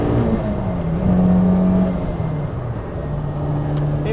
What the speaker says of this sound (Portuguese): vou só fechar aqui o vidro para vocês ouvirem toda a excelência deste motor